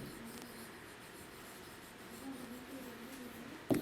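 Pen or pencil writing a maths answer by hand on paper, a faint steady scratching close to the mic over low room hum, ending in a louder knock or tap.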